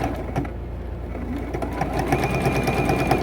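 Sewing machine running steadily as it stitches binding onto a T-shirt quilt, a loud continuous mechanical whir with rapid needle chatter, alone without talk.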